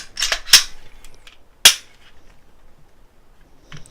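Sharp mechanical clicks come from a Glock pistol's slide and trigger during a function check after slide reassembly: a quick cluster of three snaps, then one more crisp click, close and loud in a quiet room.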